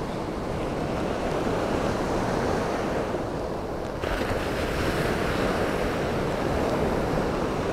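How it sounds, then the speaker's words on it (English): Ocean surf on a deserted beach roars as a steady, broad wash of breaking waves, heavy with wind buffeting the microphone, and no voices are heard. "I'm going to switch it around so you can see the waves."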